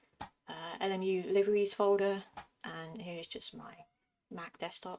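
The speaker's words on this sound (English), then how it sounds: "That's the cat. I don't know if you can hear the cat." A cat meows a few times indoors, close and clear, while someone speaks over the same stretch.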